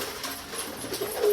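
Domestic pigeons, a male and a female, being fed indoors during rain give soft, low cooing over a steady background hiss, faint and close, with no talking.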